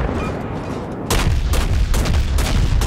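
Naval guns firing in World of Warships around a destroyer battle, a steady rumble that breaks into a series of heavy booming salvos, close and loud, repeating every half second or so.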